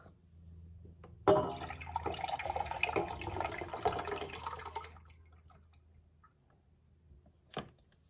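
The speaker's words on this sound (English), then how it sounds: "now I am ready to add my, this is my whole milk" Whole milk poured into a bowl for homemade strawberry ice cream, a steady liquid pour that runs for about four seconds and then tapers off, followed by a single brief clink.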